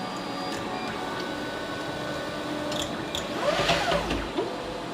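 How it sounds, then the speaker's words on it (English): Robo 3D R1 printer homing its axes with a G28 command after a leadscrew upgrade, a steady whirring stepper-motor drive that rises in pitch and sweeps near the end, fairly quiet and close, no talking. "I'm gonna do a G28 real fast, and I'm gonna have the printer home all the way down to the bed"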